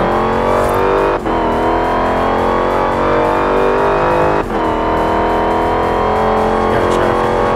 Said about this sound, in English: Hellcat sound.